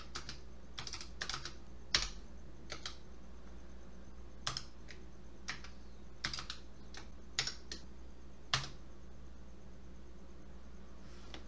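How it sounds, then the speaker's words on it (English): Typing on a computer keyboard to enter PowerShell commands for Microsoft Teams: scattered, close key clicks in short irregular bursts over a faint steady hum. "So if I type"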